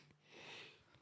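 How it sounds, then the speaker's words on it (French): A single sharp sneeze bursts out at the very end, loud and close, after a soft sniffing intake of breath in an otherwise quiet room. "je vais juste éternuer"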